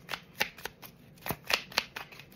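Oracle cards shuffled by hand for a tarot-style reading, giving quick papery riffles and slaps in uneven bursts, close and clear with no voice.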